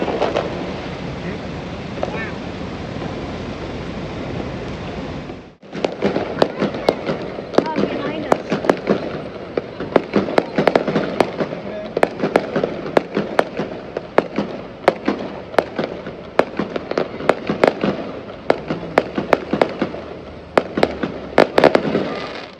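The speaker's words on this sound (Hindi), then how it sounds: "चारों तरफ से हमें फायरवर्क की आवाज़ें आ रही थी।" Diwali fireworks bursting across Dubai, a steady background hiss breaking after a brief drop into a dense run of sharp distant cracks and pops, many overlapping irregularly.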